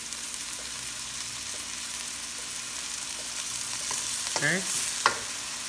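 Garlic sautés with goat meat in a pan for a Filipino goat stew, a steady close sizzle with a couple of spoon scrapes near the end and a single brief spoken word.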